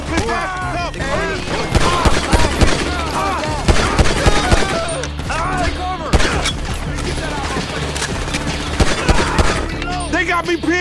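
Rapid automatic gunfire in the video game GTA V, loud dense bursts of shots and impacts layered over music and game sound, continuing throughout.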